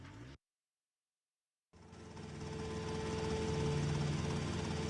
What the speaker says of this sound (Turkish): Pekala helikopterimiz geldi.